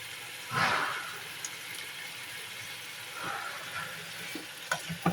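Bitter gourd slices sizzle in hot oil in a pan, a steady frying hiss with two louder bursts as the pieces are stirred, near and without speech.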